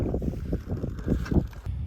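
Gusty wind buffets the microphone on a chilly mountain top in Washington's backcountry, a low, rumbling roar that pulses in irregular surges, close and steady, with no voices.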